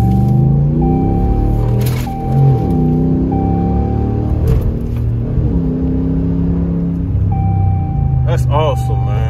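Ram pickup truck with a Rough Country cold air intake, heard from inside the cab as the engine revs and accelerates with rising tones, while people talk over it.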